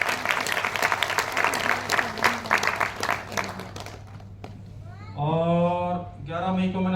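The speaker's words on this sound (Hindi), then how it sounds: "एक बार दिल खोल के जोरदार तालियां बजा देंगे।" Seminar audience in Ahmedabad applauding loudly for several seconds, a dense crowd clapping mixed with voices, then fading to quieter room noise with a few tonal sounds near the end.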